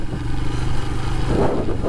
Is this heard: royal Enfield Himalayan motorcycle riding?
yes